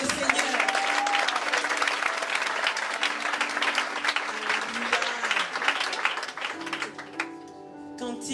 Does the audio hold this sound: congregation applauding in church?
yes